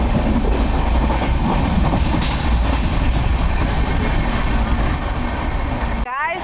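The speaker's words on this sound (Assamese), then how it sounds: "এখন গাইজ চাওক লোকেল ট্ৰেইন" A local train running, heard from on board as a loud, continuous rumble with rhythmic rail clatter throughout, ending with a brief change in tone.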